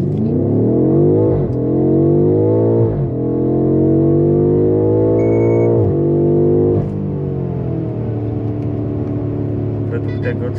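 A BMW M5 F90 launches hard from standstill to 100 km/h, its engine roaring loud and close as it climbs through several gears, each shift marked by a brief dip before the revs rise again, with voices speaking over the run.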